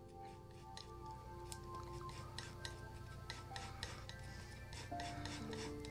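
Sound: mixing oil paint with white on a palette

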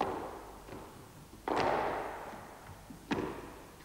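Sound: squash ball being hit with racket

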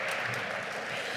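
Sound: audience applause

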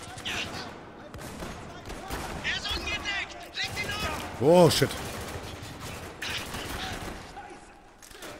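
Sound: gunfire in the video game Spec Ops: The Line

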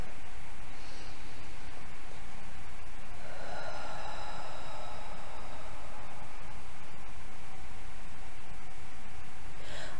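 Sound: deep breath in and out

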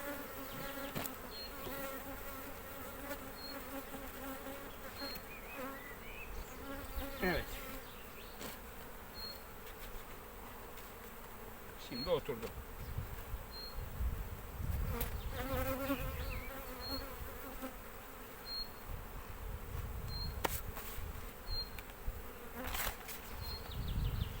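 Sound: honey bees buzzing at an open hive

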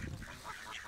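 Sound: Egyptian goose honking

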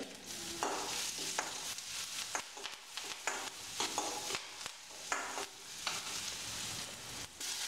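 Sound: garlic and asafoetida frying for mint rasam

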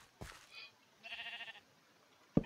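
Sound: sheep bleating in the video game Minecraft

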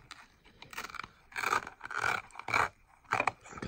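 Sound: peeling outer wear pre-filter off Traxxas E-Revo chassis

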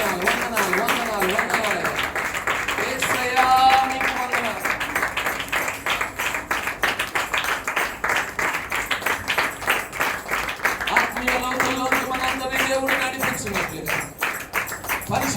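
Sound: congregation clapping loudly in church worship

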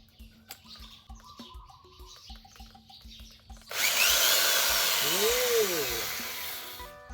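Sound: power drill drilling while making a hand-made bang fai rocket

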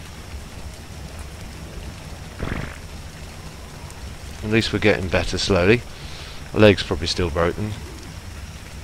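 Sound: rain in the video game Ark Survival Evolved

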